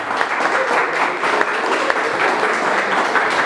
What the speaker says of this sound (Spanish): Un aplauso bien fuerte para Luis.